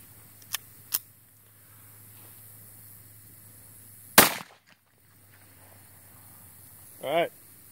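Ruger SR22 pistol fired at a laptop outdoors: two sharp, close shots early on, then a louder, longer crack with a ringing tail, and a brief whistling sweep near the end over a steady low background hum.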